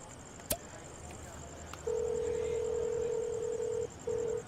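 A telephone number being dialed: a brief key press, then sustained tones with a short gap, heard alone against quiet background hiss.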